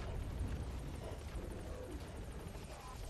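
A helicopter in the video game Metal Gear Solid V: The Phantom Pain, a steady low rotor rumble with a faint rhythmic chop, continuous and moderately loud with no talk over it.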